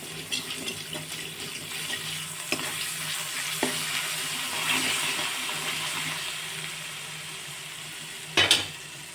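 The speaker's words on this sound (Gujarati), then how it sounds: "હવે હું એક ટીસ્પૂન આદુ મરચાં અને લસણની પેસ્ટ એડ કરીશ હવે આપણે બધું હલાવી લેશું" Ginger, chilli and garlic paste sizzling in hot oil with whole spices, stirred in a pan: a steady frying hiss with occasional soft scrapes and one sharper clatter near the end.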